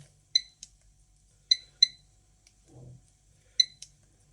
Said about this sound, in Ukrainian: Залишив тільки звук сигналізації.